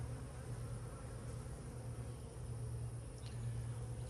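Honey bees buzzing around hive boxes during a super-adding inspection, a steady close hum droning continuously without pause.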